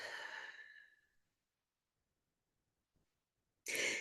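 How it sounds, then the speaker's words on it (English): One deep exhale during a breathing exercise, a soft, breathy outflow that fades over about a second into near silence, followed by a faint tap and a short burst of noise at the end. "Take a deep breath while we're here and breathe out."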